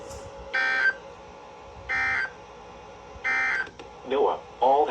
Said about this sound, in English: this has been a test of the National Weather Service's radio public warning alarm